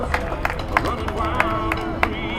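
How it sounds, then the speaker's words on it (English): Rodeo crowd at a barrel racing event in Las Vegas clapping in a steady rhythm, sharp regularly spaced claps over crowd murmur and an announcer's voice. "Clap your hands, stop your feet, and bring him home."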